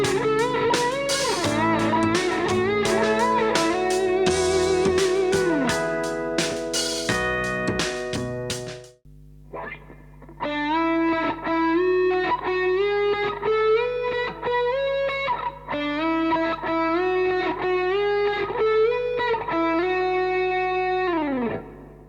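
Electric guitar with effects and distortion plays a solo built on two-tone string bends in a classic style: sustained bent notes and phrased licks, a short pause partway through, then a second run of rhythmic bent phrases, loud and close.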